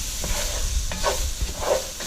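Stirring deer venison sauce picante in a pan, with scraping strokes of the utensil over a constant sizzling hiss, several soft irregular scrapes close by and no talk.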